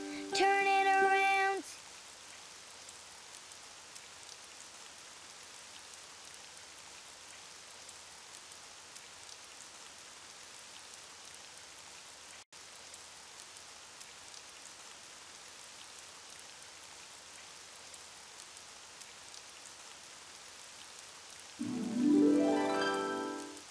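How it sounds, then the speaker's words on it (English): Steady, soft rain falling outside, an even hiss throughout, with brief musical chimes at the start and end. "Oh, it's raining outside."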